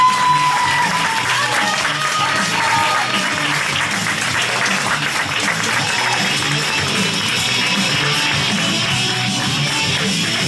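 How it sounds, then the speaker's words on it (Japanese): A crowd at a grappling match on mat-wrestling night applauds both competitors, sustained dense clapping filling the room at steady loudness for the full stretch, with faint voices mixed underneath. "両選手、盛大な拍手をお願いします。"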